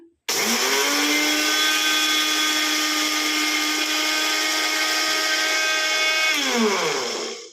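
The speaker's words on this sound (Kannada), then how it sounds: "ಈಗ ಹುರಿದಿಟ್ಕೊಂಡು ಇರುವಂಥ ಜೀರಿಗೆನ ಮಿಕ್ಸಿ ಮಾಡ್ಕೊತಾ ಇದ್ದೀನಿ" A mixer grinder whirs at a high, steady pitch while grinding roasted cumin seeds, starting abruptly, running loud and constant for about six seconds, then winding down as it is switched off, with no talking.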